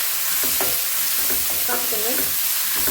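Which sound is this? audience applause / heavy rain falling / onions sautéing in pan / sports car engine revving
onions sautéing in pan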